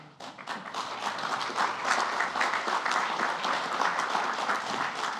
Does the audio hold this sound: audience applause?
yes